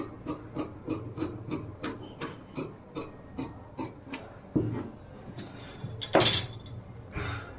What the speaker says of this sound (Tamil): அடுத்து பேக் நெக் கட் பண்ணி எடுத்துடலாம்